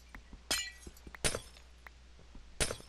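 Glass blocks breaking in Minecraft: three crisp shattering crashes spaced about a second apart, with softer clicks and taps in between, heard close and clear without talk.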